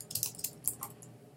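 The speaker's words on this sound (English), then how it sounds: "And I'm going to type in my name." Quick, light keystrokes on a computer keyboard while entering a name in a Google Docs document, a short burst of clicky taps with no talking.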